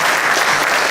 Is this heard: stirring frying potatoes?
no